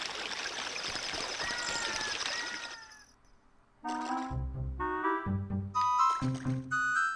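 The splashy swimming sound effect from the video game The Legend of Zelda: Ocarina of Time: a rushing watery hiss with quick gliding chirps for about three seconds, then a few bright in-game music notes.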